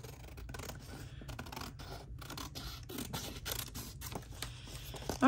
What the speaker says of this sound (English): let's cut this out and let's see how much trimming is going to be required